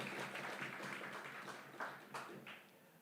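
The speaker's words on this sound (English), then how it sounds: "give yourselves a round of applause" Faint, distant applause from teachers at the Grenada Union of Teachers 62nd annual conference: a soft, continuous patter of many hands with a few louder claps standing out.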